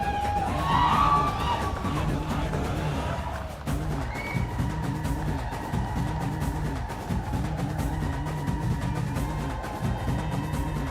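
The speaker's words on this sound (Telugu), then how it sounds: "ఒక్కసారి గట్టిగా చప్పట్లతో." Crowd at a film success celebration for KA cheers and claps loudly, a dense sustained roar of applause with whoops running throughout.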